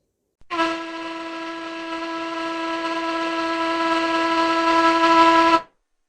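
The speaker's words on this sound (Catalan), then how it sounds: "vaixell," A ship's horn blasts one long, loud, steady tone with rich harmonics for about five seconds, swelling slightly before stopping sharply.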